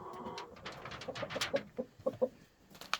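A flock of chickens with roosters at night gives a series of short, quiet clucks and low coo-like calls in an uneven rhythm, faint and somewhat distant.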